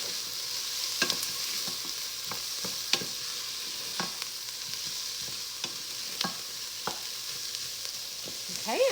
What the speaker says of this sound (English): I'm gonna go ahead and add in my equivalent of 4 cloves of garlic. And we're just gonna cook this for a little bit longer